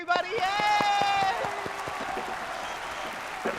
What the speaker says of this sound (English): Everyone's clapping at home.